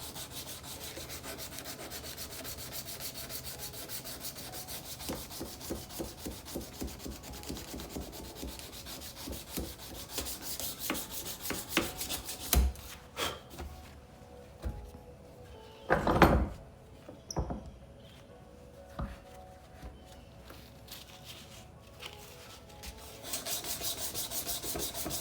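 A belt grinder sands a knife blade in a steady, continuous rasping drone, with a few louder scraping bursts partway through.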